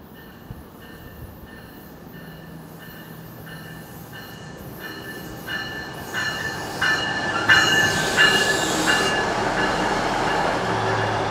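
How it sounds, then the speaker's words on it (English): A train rolls past at a rail line in Toronto's Weston neighbourhood, swelling from a distant rumble into a loud, close passage with squealing wheels and rhythmic clatter over the last several seconds; no one speaks. "I'm just gonna set up shop and wait right here for the train to roll by"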